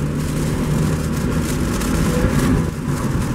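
A 2000 Mazda Miata engine, which has a neutral switch fault, winds up at speed on a road drive, a loud steady drone heard from inside the car.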